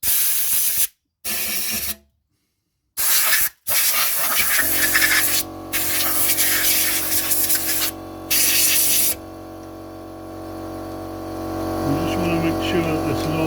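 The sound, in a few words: spray squirted into trailer wheel bearing to clean it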